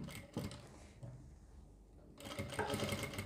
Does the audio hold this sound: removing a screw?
no